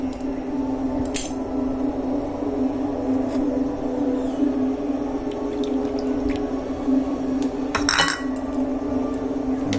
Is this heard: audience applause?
no